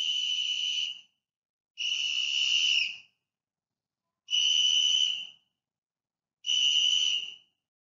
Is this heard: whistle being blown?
yes